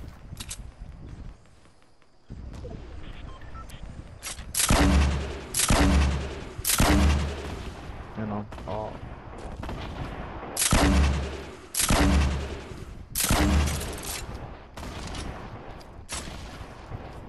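Heavy gunfire in a first-person shooter game aimed at enemies up on a mountain, loud repeated bursts of shots in clusters with pauses between them, close and booming over low background noise.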